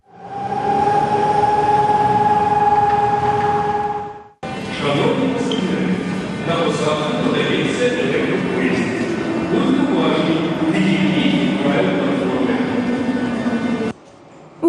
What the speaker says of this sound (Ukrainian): Це ми йдемо на тролейбусі з автономним ходом.